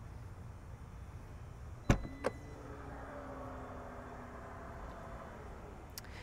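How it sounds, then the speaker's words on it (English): Hands-free power tailgate on a 2021 Volvo XC60 opening: a sharp click and latch release, then a soft rising electric motor whine under faint outdoor hiss, ending with another small click. "Volvo has nicely included a hands-free power one standard"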